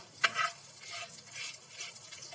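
Ground spice masala crackles in hot oil for butter masala tofu, a soft, fairly quiet frying hiss with a sharp clink of a utensil at the start and light stirring.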